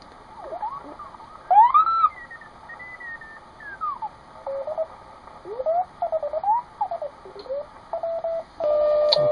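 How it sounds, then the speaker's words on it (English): Shortwave radio reception of the WWV time signal at 10 megahertz on an ARC-5 command receiver, a hissy, static-laden background, faint tones and ticks drifting in and out, with brief chirps and bursts of interference. "Okay, here's WWV at 10 megahertz."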